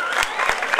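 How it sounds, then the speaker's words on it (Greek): Wedding guests clapping for the bride in a short, dense burst of applause from a crowd, loud and continuous with a few sharper claps standing out. "ένα χειροκρότημα"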